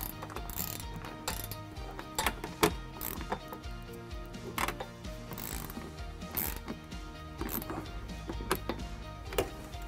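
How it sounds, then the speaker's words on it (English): A 10-millimeter socket ratchet tightens bolts during trailer wiring installation on a 2014-2021 Jeep Grand Cherokee, giving close, rapid clicking bursts with metallic knocks, repeated throughout. "Now we'll take a 10-millimeter socket and we'll go ahead and tighten those down."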